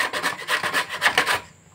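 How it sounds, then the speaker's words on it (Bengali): Elephant foot yam being grated on a potato grater, about six quick, close, rasping scrapes in a steady back-and-forth rhythm, then stopping. "ওলটাকে এই যে আলু ঘষনি দিয়ে এমনি করে আমি গ্রেট করে নেব। দেখুন আমি ঘষে নিচ্ছি।"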